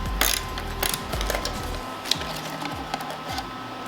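A ratchet clicks as it backs a 12mm bolt out of a Subaru WRX EJ205 engine during teardown, a close run of quick ratcheting ticks followed by sparser clicks and small metallic knocks.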